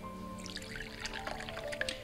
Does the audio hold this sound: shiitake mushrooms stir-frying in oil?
no